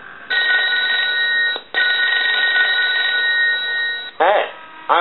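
Telephone bell from an animated M&M's telephone-repair demo rings in two long, steady electronic bursts separated by a short pause, loud and close, followed by a brief different chirp.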